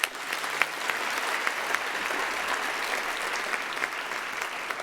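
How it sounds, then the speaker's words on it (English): Steady applause from a large audience at a university graduation ceremony, dense and continuous with a few sharper claps standing out, filling the hall from start to finish. "Let us give them another round of applause."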